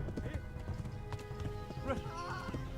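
Horse hooves clip-clopping at a gallop in the medieval video game Kingdom Come: Deliverance, a rapid thudding rhythm mixed with game noise and a brief whinny-like tone.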